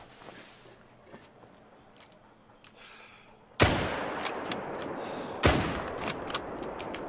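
Hunting rifle shots fired at reindeer in the game theHunter: Call of the Wild, set in a snowy taiga: two loud, sharp cracks a couple of seconds apart, each with a ringing tail, after quiet ambient rustling.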